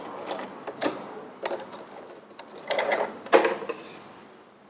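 A sewing machine runs in short mechanical bursts of stitching, pausing between runs and backstitching in reverse at the end of a seam; the whirring, clicking runs are close and clear, with no talk.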